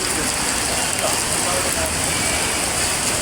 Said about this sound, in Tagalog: Kanina, sobrang lakas ng ulan. Ngayon, medyo mahina na.